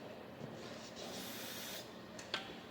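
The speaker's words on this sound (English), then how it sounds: "Use a little brake clean to clean any oil off that was on a bit." Brake cleaner sprayed from an aerosol can onto a John Deere 1650 engine block, a steady close hiss lasting a couple of seconds with a short sharp click near the end.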